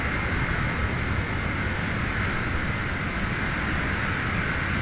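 Citation X business jet engines in Microsoft Flight Simulator, a loud, steady cockpit roar with a broad whooshing hiss and constant drone, no voices.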